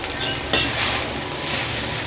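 Veg fried rice being stirred and tossed in a pan over a high flame, giving a steady broadband sizzle with a brief louder scrape of the spatula partway through, close and continuous with no talking.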